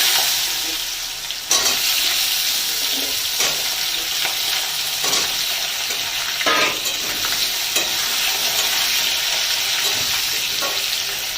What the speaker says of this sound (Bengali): এবারে দিয়ে দেবো এই দানা কলাগুলো।